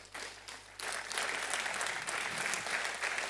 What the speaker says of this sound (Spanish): Un fuerte aplauso para los dos.